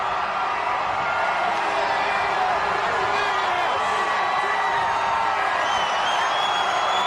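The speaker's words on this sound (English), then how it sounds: "Listen to that crowd" A huge outdoor New Year's Eve crowd at Times Square awaits the 1993 ball drop, a dense, sustained roar of cheering and whooping at constant high level, with voices blended throughout.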